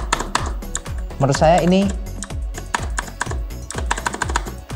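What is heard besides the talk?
pressing the Enter key on an Armaggeddon mechanical keyboard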